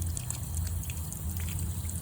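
Water trickles and splashes steadily from a leaking outdoor water spigot, a continuous close-up flow with a low rumbling undertone and no voices.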